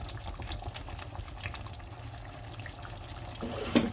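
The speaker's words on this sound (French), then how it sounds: "Je vais rajouter un filet d'huile de tournesol au-dessus." A thin stream of sunflower oil is drizzled over a pan of sautéed potatoes, giving a soft, steady liquid pour against a low background rumble, with a slightly louder splash near the end.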